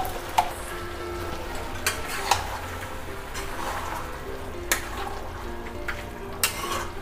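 Chicken browning in a pan as masala paste for a homemade chicken dum biryani is stirred in: a steady close sizzle with occasional sharp spoon clinks and scrapes against the pot.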